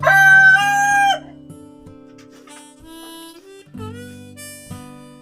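Large chickens recovering from a respiratory illness: a rooster gives a loud, close crow at the start, followed by softer clucks and crowing from other birds nearby.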